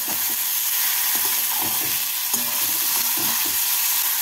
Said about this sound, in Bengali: টমেটো কুচি দিয়ে পেঁয়াজের সাথে নাড়াচাড়া করে নিচ্ছি।